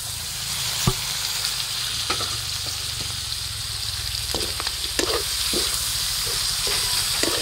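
Meat browns in a pan for pinakbet, a Filipino vegetable stew, giving a constant close sizzle and hiss with scattered pops and light utensil clicks, no voices.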